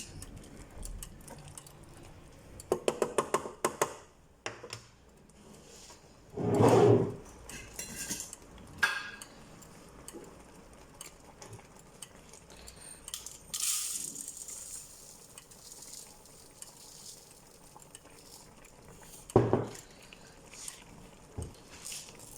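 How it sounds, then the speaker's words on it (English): Uncooked rice poured into a pot over low heat for Dominican moro locrio, with a loud rustling burst of grains followed by intermittent scraping, clinking stirs and spoon taps against the pot, no talk. "So that's our rice going in. Just keep mixing it."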